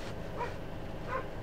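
A dog in a car gives two short yips or barks, close and fairly soft, over a steady low road rumble.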